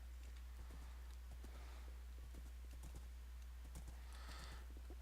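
Horse hooves clip-clop in Minecraft on a multiplayer survival server, a quiet steady run of light clicking footfalls over a low constant hum, with no talk.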